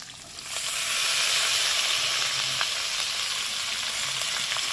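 Peas and chopped tomatoes sizzle steadily in a hot pan for a vegetarian potato, pea and paneer curry, a dense continuous frying hiss that swells in after a softer start and holds throughout.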